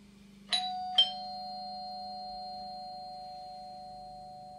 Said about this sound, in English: if you've got it fixed permanently on one page but the doorbell rings